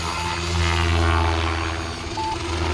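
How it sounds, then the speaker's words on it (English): A Spektrum-equipped RC helicopter running on an FC6250HX flight controller, its rotor and motor giving a steady, fairly loud drone with a low hum and occasional brief whine, heard alone with no talk. "Time to fly this helicopter."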